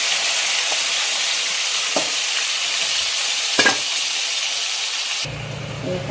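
Prawns or masala sautéing in a pan for a Konkani-style prawn curry: a steady, close, loud frying sizzle with a few scraping stir strokes, ending in a quieter hiss with a low hum.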